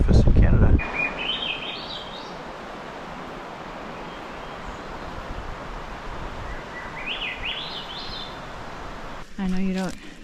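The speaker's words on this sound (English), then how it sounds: "these are all swans and thrushes that are singing" Thrushes sing along the coast near Johnstone Strait, rising fluting phrases repeated twice at moderate distance over a steady wash of wind or water, with a brief louder call at the end.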